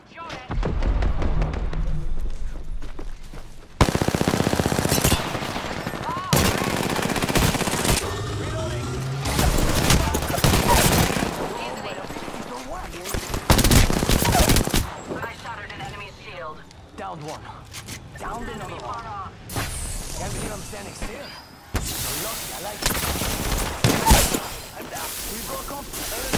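Gunfire in the video game Apex Legends, bursts of shots and heavy thuds coming in loud clusters over a long stretch, mixed with game sounds and voices talking throughout.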